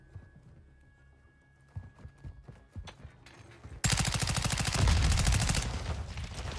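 Rapid gunfire from an MCPR-300 sniper rifle in a team deathmatch shooter game: quiet, scattered clicks and thumps give way to a loud, sustained burst of dense repeated shots that fills the second half.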